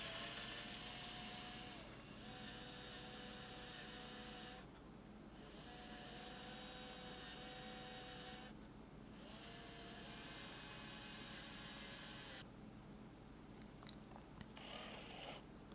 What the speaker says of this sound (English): So you're just using another Forstner bit, drilling a hole for the jack.